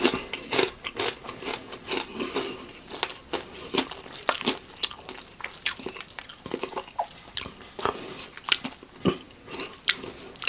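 Crunchy Thai pork cracklings are bitten and chewed up close, sharp crackling crunches coming in quick irregular bursts over several seconds, loud and dry, with no talking.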